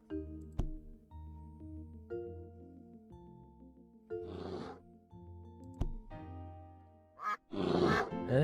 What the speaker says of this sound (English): It's quacking.